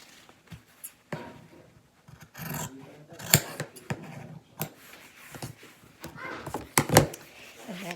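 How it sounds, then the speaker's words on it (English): Scissors snipping apart a long fabric strip for chair piping: a series of sharp, close cuts at an irregular pace, with a louder cluster near the end amid light handling and rustling. "Snip that apart."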